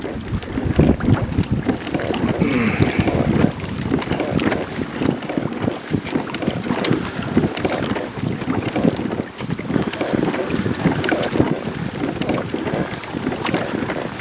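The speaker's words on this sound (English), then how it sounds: "The wind's definitely picking up out here." Steady, loud wind buffets the microphone aboard a Hobie Tandem Island sailboat out on open water, a continuous rushing roar with gusty swells and faint water sounds beneath.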